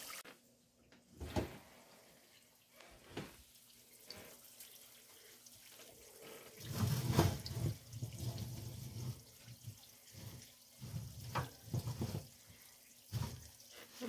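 Pork lard renders in an oven pan on a lower rack, bubbling and sizzling in irregular bursts with clicks and knocks, growing louder and busier midway through, with no talk.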